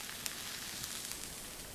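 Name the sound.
sausage browning in a pan on low heat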